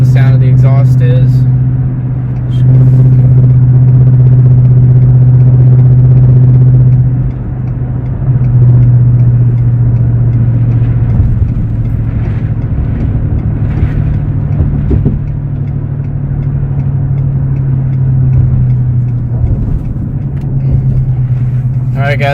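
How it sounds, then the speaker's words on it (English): A 2015 Ford F-150's exhaust with a Venom 250 Series aftermarket muffler, heard from inside the cab, idles with a deep, steady droning rumble, holding a low throaty tone with slight swells throughout. "let you guys see and hear kind of what the sound of the exhaust is"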